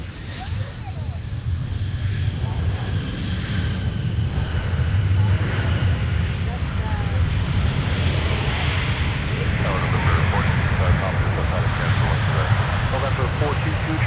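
Delta airliner taking off from runway 17 at Minneapolis–St. Paul airport, its jet engines building into a sustained, rumbling roar that stays loud throughout, with voices talking over it.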